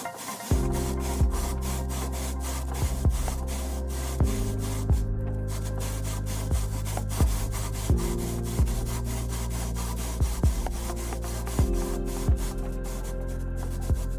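A metal lapping bar is pushed back and forth inside rifle scope rings, making a steady rhythmic scraping and rubbing. Regular strokes recur every few seconds, close and moderately loud, with no voices.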